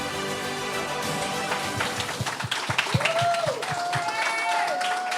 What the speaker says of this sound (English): A rousing round of applause again for both our candidates